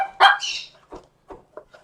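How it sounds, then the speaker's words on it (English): A dog gives one loud, sharp bark followed by a high yelp. Several shorter, softer barks and whimpers trail off nearby, with no talking. "She barks uncontrollably."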